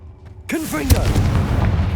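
Confringo explosion spell in Hogwarts Legacy, one sharp blast after a brief quiet lead-in, followed by a swooping whoosh and a second heavy boom, then a loud rumbling tail that lingers.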